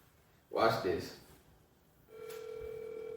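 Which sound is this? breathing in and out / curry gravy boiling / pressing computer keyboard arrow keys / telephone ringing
telephone ringing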